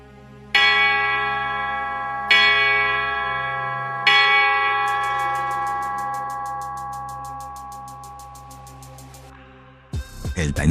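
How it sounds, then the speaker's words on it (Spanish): Church bells toll loudly nearby, three heavy strikes a couple of seconds apart, each ringing out and slowly decaying, followed by a faster run of lighter repeated chimes and a sudden rush of noise at the end. "El tañido de las campanas golpean sin cesar"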